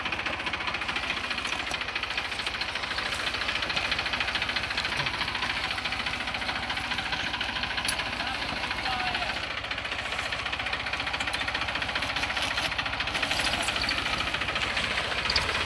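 A Deutz-Fahr tractor runs at a steady, continuous engine drone while loading river sand in the Panam river, a constant mechanical roar with faint voices underneath.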